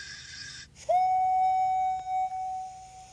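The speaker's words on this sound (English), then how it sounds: "Then, Henry heard a strange whistle that woke him up." A sudden strange whistle sounds in a told story, a sharp sustained steam-style train whistle tone that rises in and holds for a couple of seconds, loud and clear over quiet background.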